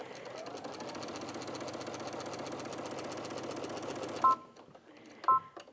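A Brother Innov-is VQ2 sewing machine runs steadily, stitching layers of fabric in a fast, even mechanical whir for about four seconds, then stops, leaving a couple of short beeps in near quiet.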